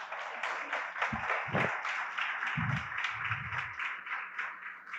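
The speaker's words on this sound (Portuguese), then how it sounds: "Se você está entendendo, aplauda o Senhor Jesus." Church congregation applauding steadily throughout, a dense sustained wash of clapping with a few lower thumps and murmurs mixed in.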